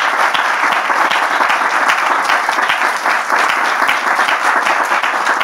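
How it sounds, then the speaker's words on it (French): Dense, steady audience applause fills the whole stretch at a church gathering, many hands clapping at once with no pauses, close and fairly loud. "On peut applaudir les différentes interventions."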